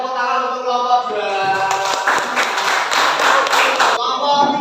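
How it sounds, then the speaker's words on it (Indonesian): Classroom students clap for a presenting group, a short burst of scattered hand claps over background voices and talk, moderately near. "Oke, tepuk tangan untuk kelompok 2."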